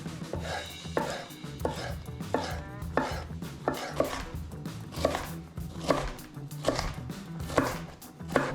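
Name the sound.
knife chopping zucchini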